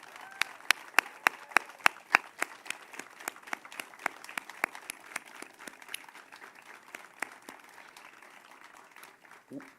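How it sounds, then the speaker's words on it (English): At a Veterans Day ceremony, a modest crowd applauds military veterans, with distinct individual claps standing out sharply at first, then thinning into scattered, softer clapping that trails off. "And let's give them a round of applause"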